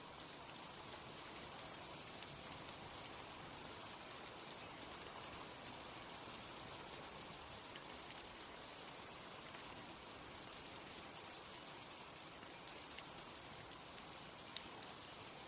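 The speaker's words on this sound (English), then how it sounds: "And it's raining again." Steady rain falls in the video game Istaria, a soft, even hiss of raindrops on surfaces continuing unbroken throughout at low volume, with no voices.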